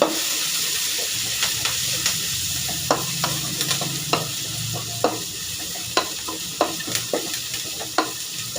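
Shredded cabbage with coriander and curry leaves fries for a Tamil cabbage kootu, giving a steady close sizzle broken by regular scraping stirs of a spatula in the pan, about one every second.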